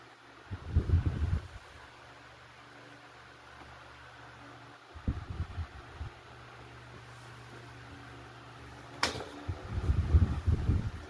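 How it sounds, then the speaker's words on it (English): A vintage Frigid D-12-85 electric fan runs and oscillates, its motor bogging down as it swings, giving a faint steady low hum broken by three duller rumbling surges. "It does seem to bog the motor down when it oscillates."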